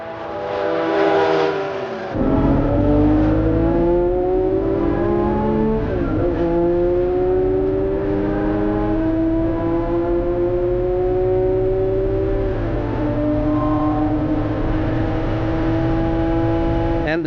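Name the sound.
Ferrari Daytona car engine revving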